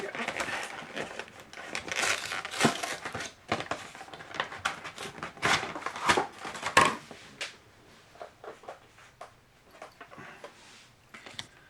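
Crinkly plastic wrapper being torn and handled while opening Magic: The Gathering cards from a Zendikar Rising Commander deck, in irregular close rustling bursts that thin out toward the end, with no talk over it.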